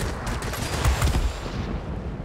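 Aircraft cannon fire in World of Warplanes, a dense rumbling burst of rapid shots under continuous engine and battle noise, loud and close with no talk.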